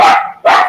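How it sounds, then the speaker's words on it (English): Two dogs barking nearby, two loud separate barks in quick succession with nothing else in between. "all that barking is because my 2 dogs are over there."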